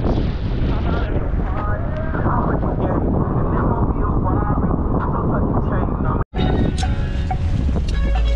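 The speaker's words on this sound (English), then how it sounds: "it's too windy for me for freestyling." Strong wind at a hidden kiteboarding beach buffets the microphone in a loud, continuous roar, briefly cutting out near the end before rushing back in.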